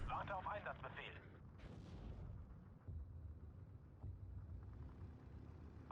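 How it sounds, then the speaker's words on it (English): Incoming artillery fire in the Steel Division 2 war strategy game: a dense, continuous rumble of distant shell bursts and booms, with a few sharper impacts and some voices underneath. "Oh, that's a lot of artillery coming in."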